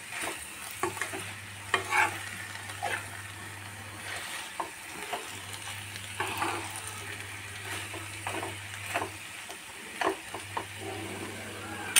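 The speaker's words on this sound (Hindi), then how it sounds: "सूखी हुई मसाला पीसी हुई है, धनिया, जीरा, हल्दी, मिर्च मसाला ऐड करके अच्छे से मिक्स करूंगी।" Ground coriander, cumin, turmeric and chilli are stirred into potato and fenugreek frying in a pan, a steady close sizzle under repeated scraping strokes of a spoon, with a low hum running beneath.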